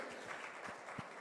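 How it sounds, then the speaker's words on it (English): Brief burst of audience applause at an MTV Unplugged concert taping, a dense wash of many hands clapping at moderate level with a couple of sharper claps standing out, no voices over it. "Please give it a huge round of applause,"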